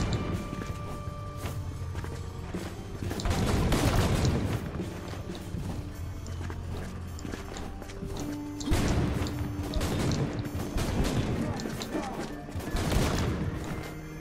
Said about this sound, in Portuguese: Meio violento o tiro especial